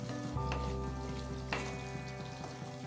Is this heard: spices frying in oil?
yes